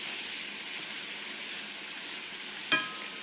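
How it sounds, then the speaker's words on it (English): Noodles frying in a pan, a steady close hiss of sizzling throughout, with a single sharp clink of a utensil near the end as they are stirred. "I just mix it around. I like my noodles to be a little more fried and hard, personally."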